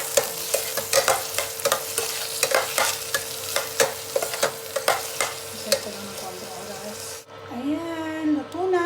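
Onion, tomato, garlic and ginger sauté in a pan with loud, steady sizzling and regular scraping strokes of a spatula, and a voice speaks briefly near the end.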